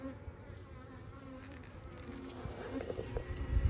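A dense, steady buzz of many honeybees in a hive drones close by, with faint rustling and a few soft knocks underneath, growing slightly louder toward the end.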